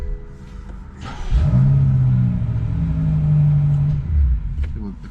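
A 2023 BMW M8 Competition with a Ghost 2 immobiliser: the engine idles, surges and runs rough, cutting in and out as the immobiliser interrupts it, close and fairly loud with no talk.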